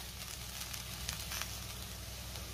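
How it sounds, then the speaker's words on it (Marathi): Okra bhaji cooks in a pan with sesame, coconut and peanut powder, giving a steady, even sizzle and crackle that runs unbroken throughout with no voices. "तीळ खोबऱ्याचा आणि शेंगदाण्याचा कूट घातल्यावर भेंडी मी साधारण 1 मिनिट शिजवून घेणार आहे"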